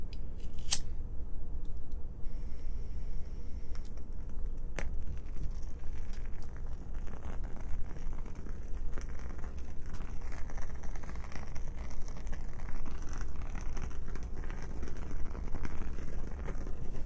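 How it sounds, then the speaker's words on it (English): A lit woodwick candle crackling softly and steadily up close, with faint irregular pops over a constant low background. "I'm gonna start with a woodwick candle for some light background sound."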